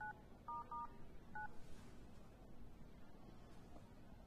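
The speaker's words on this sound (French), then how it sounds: "Je vais lui passer un coup de fil." Telephone keypad tones as a number is dialed: a few short, clean beeps in quick succession over the first second and a half, fairly faint, then only quiet room ambience with no talking.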